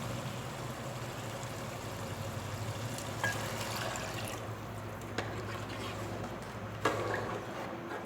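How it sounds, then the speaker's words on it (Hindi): Water poured into a pan of spiced black chickpeas cooking on the stove, a steady close trickling and bubbling stream with a few brief clatters, no speech. "पानी डालते हैं"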